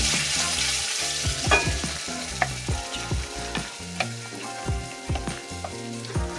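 Masala gravy with black chickpeas being stirred and fried in a pan, giving a steady loud sizzle broken by repeated scraping strokes of the spoon, close and with no talking.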